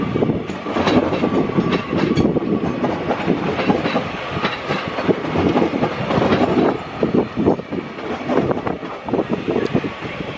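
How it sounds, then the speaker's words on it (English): A Class 331 passenger train pulls into Crewe station on a service from Manchester Piccadilly, with loud rolling wheels, rhythmic clickety-clack over rail joints and some wind buffeting the microphone. "As in comes a Class 331 working service from Manchester Piccadilly or Liverpool Lime Street"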